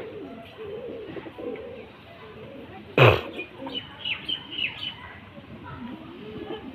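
Pigeons kept for sale at a home loft coo and call softly through the background, with one sharp louder burst partway and a few brief chirpy notes after it; no talk.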